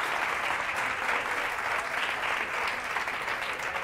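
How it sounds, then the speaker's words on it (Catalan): An audience applauds a school quiz team on a Catalan TV word quiz show, a continuous even wash of many hands clapping at moderate distance with no talk. "Aplaudiment per ells."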